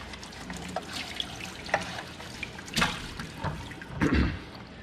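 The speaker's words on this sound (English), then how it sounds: "And then I'm just going to rinse out" Water splashes and trickles while a container used for a liver of sulfur patina is rinsed at a sink, with uneven gushes, drips and light knocks, fairly close and without voices.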